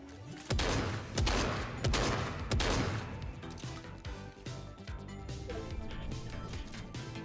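Rapid bursts of an auto shotgun firing in Fortnite, several loud booming shots in quick succession, then a run of mechanical clicks and clacks as the weapon reloads.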